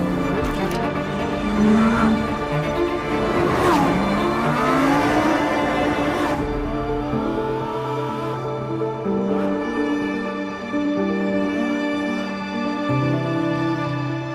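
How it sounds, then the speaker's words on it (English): A Lamborghini Huracán Sterrato drives and drifts on loose gravel, its engine revving and shifting through loud, changing pitches while the car slides, with no talking and a continuous, close, busy sound throughout. "I feel like a child driving and drifting the Sterrato because it's so much fun"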